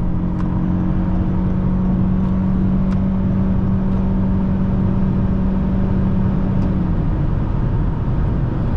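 A 2024 Toyota Camry Hybrid SE Nightshade with a CVT accelerates hard, its loud, steady engine drone holding an even pitch against heavy road and wind rumble from inside the cabin.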